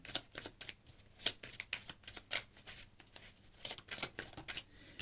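Tarot cards riffle-shuffled by hand in rapid bursts of crisp, close, quiet flutters and taps, with no talking.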